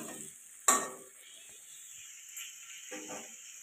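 Water poured into a pan of frying elephant foot yam and potatoes, a sudden sharp splash and burst of sizzle, then a steady hiss with a brief stir of the pan.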